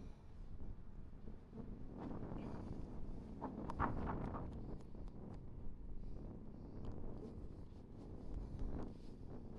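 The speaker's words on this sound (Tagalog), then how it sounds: "Grabe ang hangin." Strong wind on an open, sandy jogging spot in Abu Dhabi buffets the microphone with a continuous low rumble and gusty swells, with no talk.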